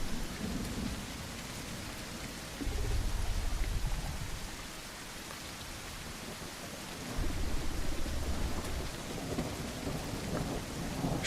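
Steady rain pours in The Isle game world while deep thunder rumbles roll in twice, swelling and fading under the continuous downpour with no voices present.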